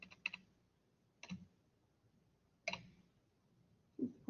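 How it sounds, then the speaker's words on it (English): Sparse, close computer keyboard typing: a few quiet clicks and short bursts of keystrokes separated by pauses, with no talk. "We'll go ahead and type that in."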